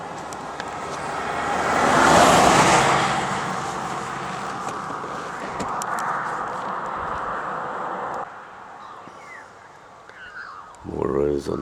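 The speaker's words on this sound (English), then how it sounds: "here comes the car." A car passing on a rural road near Logue Brook and Waroona, heard from inside a parked car, rising to a broad whoosh early on and then fading away, with a person talking over it and a brief clunk near the end.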